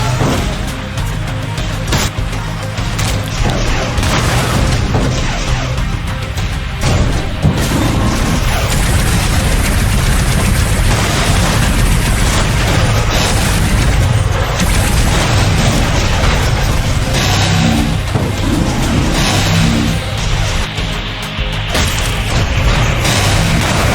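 Explosions ring out in the GUNHEAD video game as the central core is destroyed, a dense, continuous roar of booms and crashes that stays loud for the whole stretch with no voices.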